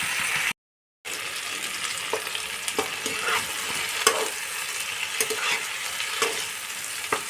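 Potatoes and spinach fry in a pan for a Bengali chorchori, a steady close sizzle with small crackles and stirring scrapes, broken by one brief gap of silence near the start.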